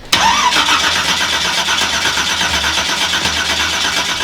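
A 1,500 bhp V8 engine in a one-of-a-kind Nissan GTR Black Edition drag car with a dry sump cranks and catches at once. It settles into a loud, rough, pulsing idle up close, with no talking.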